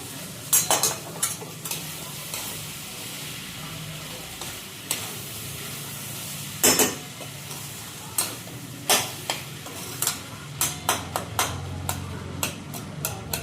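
Cooked rice being stirred into tomato masala in a pan, with a quiet sizzle underneath and a series of sharp spoon scrapes and taps against the metal, some clustered, some spaced apart. No one speaks.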